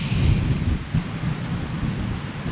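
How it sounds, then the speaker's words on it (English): Strong wind buffets a microphone at an open airfield, a loud continuous low roaring rumble with gusty surges throughout, no other sounds standing out. "Extremely windy."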